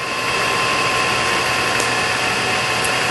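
A used Whacheon HL-460 engine lathe runs at a slow 32 RPM, a steady, even mechanical hum and motor whine with broadband hiss, constant throughout and with no talking.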